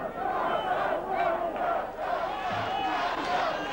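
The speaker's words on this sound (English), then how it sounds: "the crowd urging him on for this third and final round" Boxing arena crowd in the 1993 Carruth versus Fisher bout shouting and chanting through the third and final round, a dense, loud, rhythmic roar with voices surging in waves.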